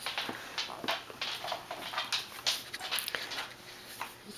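A pet dog waits near a baby's high chair for food crumbs during a first meal of rice cereal, giving soft whimpers, panting and faint paw shuffles close by, with no talk.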